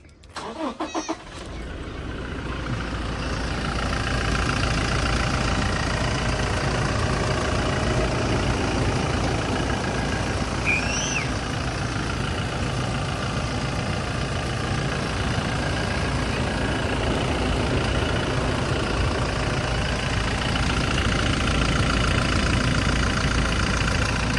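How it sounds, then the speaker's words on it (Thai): A 2015 Toyota Hilux Revo 2.4 pickup truck engine starts, then settles into a steady, close idle that runs continuously with a low rumble throughout. "มาฟังเสียงเครื่องยนต์กัน"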